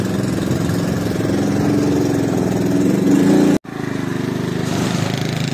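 A motorcycle engine labouring through desert sand, a steady loud mid-pitched drone with chugging pulses that cuts off abruptly near the end, then resumes with a softer running note.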